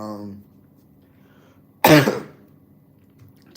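A single loud, harsh cough bursts out near the microphone after a brief moment of speech, then fades into quiet room tone.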